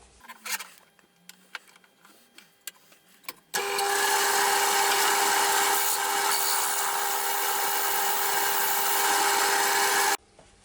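A gouge hollows out a sycamore bowl on a wood lathe; after a few scattered knocks, a loud continuous cutting hiss starts abruptly and runs steadily for about seven seconds before stopping.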